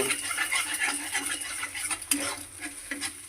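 A spatula stirs and scrapes an egg frying in a wok, with irregular clinks and a soft sizzle of frying beneath.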